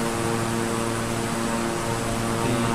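Beechcraft King Air 350i turboprop engines in Microsoft Flight Simulator produce a steady, loud droning hum with a constant propeller tone, unbroken and with no talk over it.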